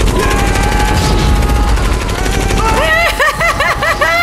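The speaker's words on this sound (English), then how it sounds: "a little raccoon just go crazy shooting at everybody" Rapid automatic gunfire from a raccoon character blasting at enemies in the 2014 film Guardians of the Galaxy, dense loud bursts over a busy action score, with the shots growing sharper and more distinct toward the end.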